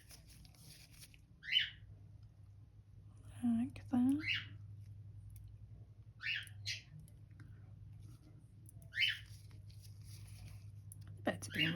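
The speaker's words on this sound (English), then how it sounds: "Birds are being really cute and chatty with each other today." Small birds chirp back and forth in short, bright calls every couple of seconds, with a quiet voice speaking briefly in between over a low steady hum.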